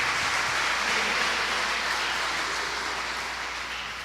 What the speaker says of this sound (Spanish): Denle un aplauso aquí a Néstor,